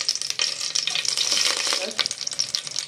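Mustard seeds, chana dal, cumin and fennel crackle and pop in hot oil, a close, busy spluttering with rapid irregular snaps throughout.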